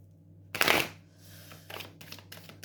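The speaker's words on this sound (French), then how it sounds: "Je vais prendre une carte réponse" Tarot answer cards shuffled and drawn by hand: a brisk riffling burst up close, followed by a few softer slides and flicks of cards, with no talking.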